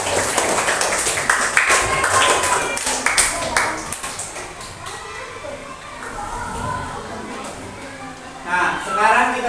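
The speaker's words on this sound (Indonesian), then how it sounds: "kita kasih tepuk tangan yang udah bantu menjawab" Classroom of children clapping for classmates who helped answer, a burst of brisk hand claps under lively children's voices, fading into chatter and a teacher speaking.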